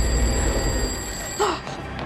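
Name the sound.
telephone ringing in a horror film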